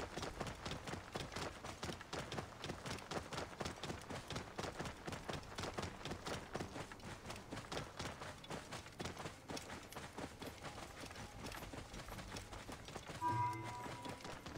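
Horse hooves clip-clop in a steady, rapid galloping rhythm from the video game Assassin's Creed Origins, faint and continuous throughout with no talking.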